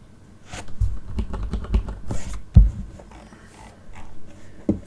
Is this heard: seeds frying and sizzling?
no